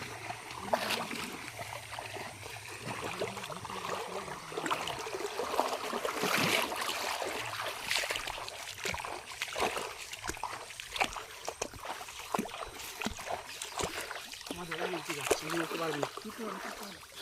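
Water sloshes and splashes steadily around a small boat for the full stretch, with a broad rushing wash and occasional sharper splashes, while people talk over it.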